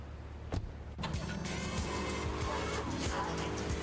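Car engine in Grand Theft Auto III, a brief thump then a steady loud revving drone that holds to the end.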